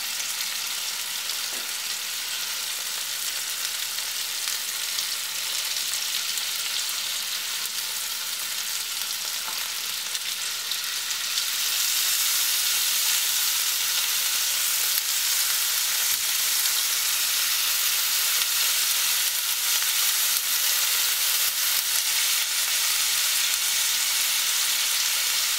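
Kerala-style fish fries in a pan with a steady, close hiss and crackle that grows louder and denser about halfway through, with no talking.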